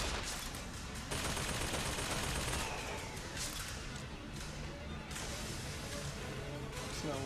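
Rapid bursts of gunfire fill the BioShock Infinite scene as the player shoots at a hostile machine. The shots come thick and continuous, with crashes layered through the dense clatter.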